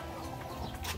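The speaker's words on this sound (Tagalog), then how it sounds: "Ang dami manok mo." Chickens clucking on a farm in Davao, a steady busy flock close by with overlapping calls and no talk.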